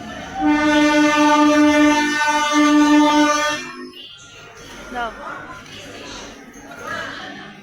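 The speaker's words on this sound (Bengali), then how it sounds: "দীঘা যাওয়ার লোকাল ট্রেন সকালে একটাই সেটা ভীষণ লেট করছে" Local train to Digha at a station, its horn blaring loudly and steadily for a few seconds, followed by rail rumble and nearby people talking.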